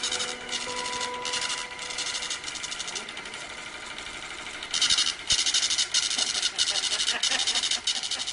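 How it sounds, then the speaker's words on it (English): A voting machine prints out a vote count tape with a steady mechanical whirring and rattling that grows louder and busier partway through, heard at close range. "will now cause the voting machine to print out a tape reading the number of votes that it had just read"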